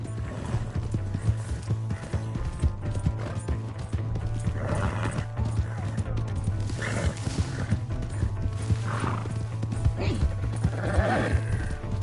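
Horse hooves clip-clop at a steady gallop in the Red Dead Redemption video game, loud and continuous, with a few whinnies and other animal calls in the game mix.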